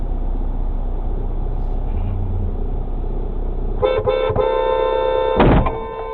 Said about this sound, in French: Heureusement qu'il y avait le klaxon